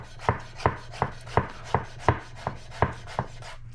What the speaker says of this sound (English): So here we basically just do a julienne.